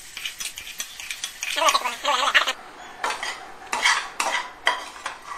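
Cooked spring roll stuffing is moved into another vessel, with repeated metal spoon scrapes and clinks against the pan over a light sizzle. The stirring comes in uneven bursts, close and moderately loud, with no speech.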